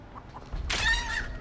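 A chicken in the Texas Chainsaw Massacre video game gives a sudden loud squawking cluck lasting under a second, alone after a moment of quiet.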